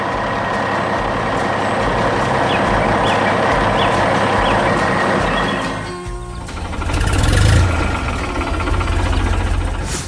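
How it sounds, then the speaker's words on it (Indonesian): A cartoon red truck and orange construction machine rumble along with a steady, loud engine drone, then a brief mechanical clatter and a heavier surge near the end. "Truk merah dan mesin konstruksi oranye terus bergerak di sini."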